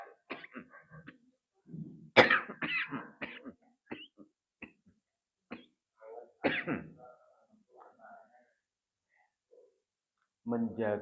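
Repeated close coughs and throat-clearing break into an Islamic lecture, in uneven loud bursts spread over the span with short pauses between them.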